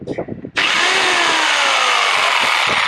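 A brief burst of handling noise, then a Stanley jigsaw at speed six snaps on cutting wood and whines loudly and steadily, a high buzzing drone that holds without a break.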